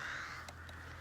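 Crows caw outdoors among trees on a chilly day, two short calls close together midway through, over a steady low crackle of a wood fire burning nearby.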